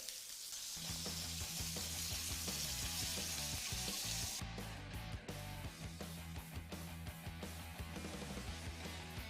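Rib eye steak in a Mexican-style paleo stir fry sizzling in a hot pan, a constant close hiss running throughout over a steady low humming drone, with no one talking.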